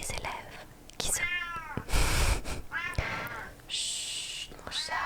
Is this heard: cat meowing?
yes